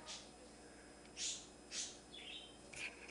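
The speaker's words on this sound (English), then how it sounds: "my birds have decided they want to join us this morning and chat" Pet birds chirp indoors in a kitchen during morning tortilla cooking, with several brief high tweets spaced apart over a quiet background, faint and somewhat distant.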